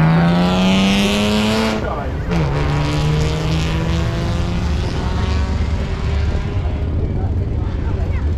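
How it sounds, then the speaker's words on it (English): A broken-down Morgan three-wheeler's engine restarts at the Kop Hill Climb start line, revving high and dropping, then idling and running steadily with harmonic whine, close by, alongside a commentator's voice. "Sounds like the Morgan three-wheeler that's broken down is now starting again"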